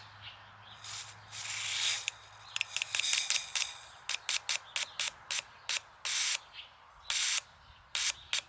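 Cleaner sprayed through a car fuel injector pulsed open by direct battery power, heard as a long hiss followed by a rapid run of short, sharp spray bursts in irregular rhythm, close and fairly quiet.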